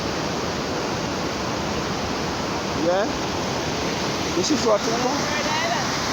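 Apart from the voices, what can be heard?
water flowing after a hurricane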